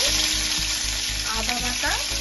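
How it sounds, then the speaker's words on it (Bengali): Garlic paste frying in hot oil in a kadai, a steady close hiss and crackle that holds for a couple of seconds over a faint low rhythmic pulse. "এবারে আমি গ্যাসটা অন করে কড়াতে তেল দিয়ে দিয়েছি, কড়া গরম হয়ে গেছে। এবার আমি এর মধ্যে একটু রসুন বাটা দেবো"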